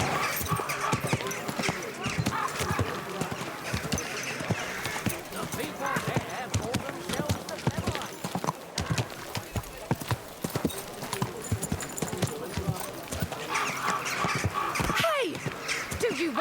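Horse hooves clip-clop steadily in Kingdom Come: Deliverance II, a busy rhythmic clatter close by that runs throughout with game ambience and speech layered over it.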